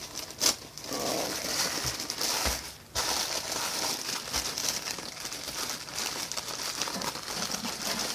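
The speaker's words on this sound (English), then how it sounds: "Oh, I hate tearing this tissue paper." Tissue paper from a mail package is torn and crinkled up close, with crisp rustling and tearing bursts and a few short pauses, and no voices.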